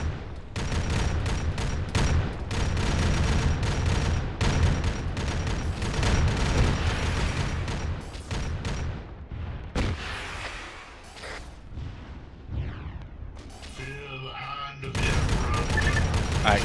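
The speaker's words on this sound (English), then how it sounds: "Confirm your targets before we open fire." Dense gunfire and artillery in the military video game ARMA 3: overlapping rifle bursts and heavy booms roll on almost without pause, then thin out, with brief radio-style voices partly heard beneath.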